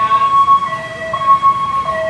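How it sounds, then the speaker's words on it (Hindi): Police car siren at night on a city street, a close, loud wailing tone that rises and falls in repeated short sweeps. "ये पुलिस की गाड़ी है"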